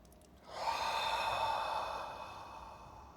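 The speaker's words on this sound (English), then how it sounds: "Please take a deep inhale. One more like that. Breathe in." A single deep, slow inhale during a guided meditation, soft and close, a steady breathy rush lasting about two seconds before tapering off.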